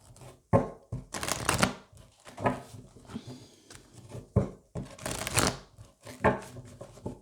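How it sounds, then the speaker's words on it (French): Oracle cards are shuffled by hand in a series of crisp, rapid riffling bursts separated by short pauses, with soft taps and rustles in between, close and fairly loud. "je vais prendre maintenant l'oracle des murmures pour aller compléter encore. Allez, je vais les brasser."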